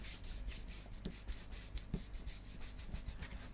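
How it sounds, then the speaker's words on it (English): An ink blending brush rubs Broken China ink onto embossed paper for a metallic gilded craft background. It makes close, rhythmic scratchy swishes in quick up-and-down strokes, with a few soft knocks and no talk. "this is where I get my ink blending brushes, so starting with broken china and just start rubbing that through"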